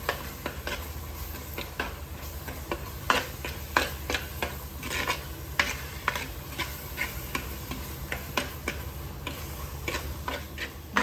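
Onion, tomato and powdered spice masala for a fish curry fry in a pan with a steady sizzle, while a spoon scrapes and taps the pan in quick, regular strokes, close and without talking.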